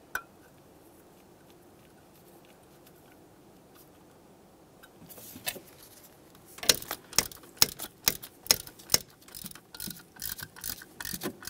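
Ratchet tightening the camshaft position sensor mounting bolts on a 1999-2006 Chevrolet Silverado 1500 4.3L, a quiet lead-in followed by a run of sharp, close clicks in a steady rhythm.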